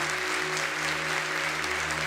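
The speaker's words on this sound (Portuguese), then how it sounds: "Uma salva de palmas à palavra" Steady applause from a church congregation, sustained and fairly even throughout, with a low constant hum underneath and no distinct voices.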